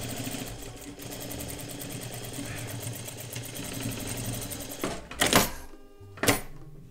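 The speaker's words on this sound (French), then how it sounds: "Maintenant que j'ai fait ma piqûre de maintien" Sewing machine stitching a holding seam on fabric, a steady rapid mechanical whirr for about five seconds, then short bursts of stitching as it stops and restarts.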